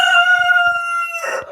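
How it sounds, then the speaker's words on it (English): A rooster crows once in a winter coop in cold Northern Ontario, a loud, close, drawn-out call ending in a rough grunting tail, with faint clucks from the chickens underneath. "Chickens."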